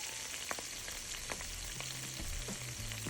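Shallot sizzles and fries steadily in olive oil with Calabrian chili paste in a sauté pan, a continuous close crackling hiss broken by a few sharp stirring clicks, with no voices.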